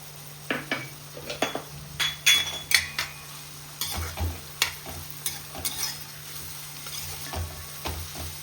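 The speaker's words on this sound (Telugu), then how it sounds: "ఉల్లిపాయలు మంచి కలర్ రావాలి, అప్పటి వరకు ఫ్రై చేసుకోవాలి." Onions fry in a pan for mutton keema while a spoon stirs them, a steady sizzle beneath repeated scraping and clinking strokes, close and moderately loud, with no voices.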